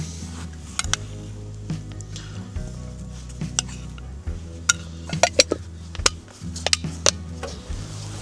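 Food sizzles and spatters in a hot pan over a very high flame outdoors, with sharp metallic clinks of a utensil against the pan now and then.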